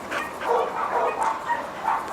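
A four-year-old American shelter dog rescued from a hoarding case gives a series of soft, repeated barks and yips at close range, several short calls across two seconds with no talking.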